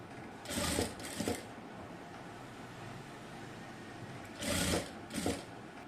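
Sewing machine stitching lace onto a round neckline in four short bursts, two near the start and two near the end, with a low background hum between them.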